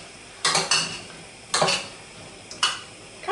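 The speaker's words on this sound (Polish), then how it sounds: "I te śliwki podsmażam na wolnym ogniu. Należy pamiętać o mieszaniu." A spoon scrapes and clinks against a pan of plums frying over low heat in a few separate stirring strokes, close up, with a faint sizzle in the quiet between.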